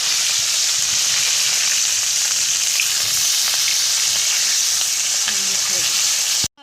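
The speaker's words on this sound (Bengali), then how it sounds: "দেখো এখন মাছ ভাজছে" Fish frying in hot oil gives a steady, loud, dense sizzle with faint crackles throughout, then stops abruptly at the very end.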